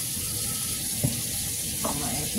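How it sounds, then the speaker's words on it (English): Water runs steadily from a tap with a soft hiss, broken by a few faint clinks nearby. "I'm gonna run some cold water."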